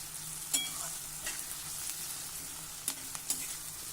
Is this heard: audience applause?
no